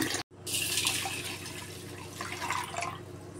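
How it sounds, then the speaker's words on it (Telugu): Water runs steadily into a cooking pot from a tap, a continuous close splashing pour with a brief break near the start, while spices such as ajwain sit in the pot. "రెండు చెమ్ములు అయితే వాటర్ పోస్తున్నా"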